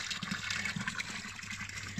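Spring water from Vitosha mountain running steadily, a soft continuous splashing flow heard close up, fairly quiet and without talk.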